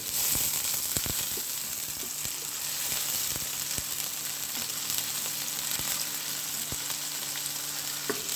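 Sliced onions fry in a pan of hot oil, a steady close sizzle with a few soft stirring clicks and scrapes throughout.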